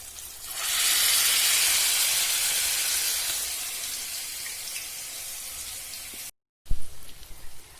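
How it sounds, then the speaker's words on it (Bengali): Noodle pakora, a Maggi noodle fritter, deep frying in hot oil: a loud steady sizzling hiss that swells in early and slowly fades, then breaks off and gives way to a few knocks and clatters. "ভাজা প্রায় হয়ে গেল"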